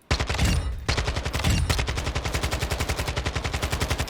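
Assault rifle fire in Warzone 2, rapid loud automatic bursts with very fast evenly spaced shots, two brief bursts followed by a longer sustained stream, close and with no voices.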